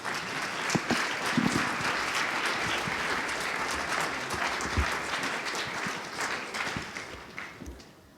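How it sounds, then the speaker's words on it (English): Audience applause at an evening business school event, a sustained round of many hands clapping at moderate level that gradually fades toward the end. "Could we get another round of applause, please?"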